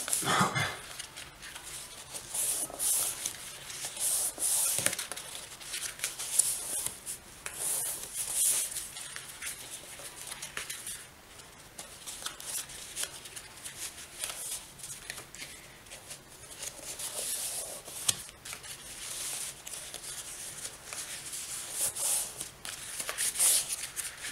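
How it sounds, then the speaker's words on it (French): Scrapbook paper being creased firmly along its folds while making a satchel-shaped photo album, giving close, continuous rustling and rubbing with brief crisp scrapes and no voices. "on essaie de bien les marquer tous les plis"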